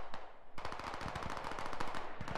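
Rapid automatic gunfire rattles in a video game, first a few isolated shots and then a dense, continuous burst of machine-gun fire that carries on to the end.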